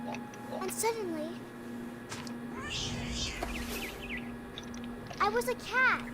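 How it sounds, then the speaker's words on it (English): A cat meows a few times in the video game What Remains of Edith Finch, short rising calls near the start and again near the end, with a soft steady tone and quiet background sounds between them. "It was a cat."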